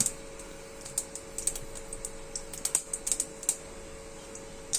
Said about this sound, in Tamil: கடுகு பொடிட்டோம்.